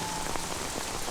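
Rain falls steadily on a surface in a Hindi film scene, a dense, even patter of drops with no voices.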